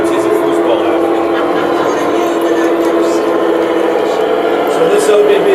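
An ÖBB model train runs on a home layout in the USA, giving a steady, continuous rolling rumble that holds at an even level throughout, with some background talk.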